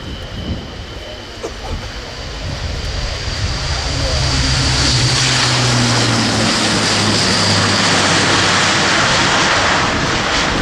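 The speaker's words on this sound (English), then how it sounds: "that's really impressive performance from this new 4-turboprop airlifter" Airbus A400M Atlas four-turboprop military airlifter in a flying display at RIAT 2016, propeller and engine drone swelling from moderate to a loud, sustained roar as it passes close, with a commentator speaking over it.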